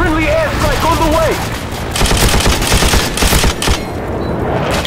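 Sustained M60 machine gun fire in Call of Duty 4, with rapid dense bursts continuing through most of the stretch, loud and close over game background noise, with a brief voice-like tone near the start.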